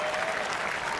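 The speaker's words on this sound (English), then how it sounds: "he's getting a standing ovation from this crowd at the O2" A crowd at the O2 arena gives a standing ovation at a FIFA eWorld Cup final, steady dense applause filling the whole brief moment.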